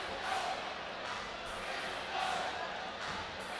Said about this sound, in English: Listen to the ovation.